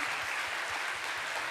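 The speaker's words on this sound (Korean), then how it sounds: "우리 박수하겠습니다." A church congregation of around six hundred bursts into dense, continuous applause at a Friday worship gathering, a thick close wash of clapping throughout with no talk.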